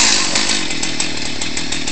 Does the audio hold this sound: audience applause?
no